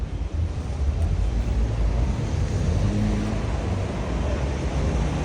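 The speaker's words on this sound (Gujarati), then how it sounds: "પવન છે." Steady outdoor wind gusting across the microphone, a continuous low rumble with constant loudness that holds throughout, with no voices heard.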